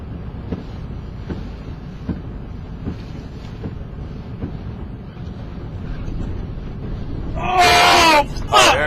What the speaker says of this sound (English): Here's the gust hits.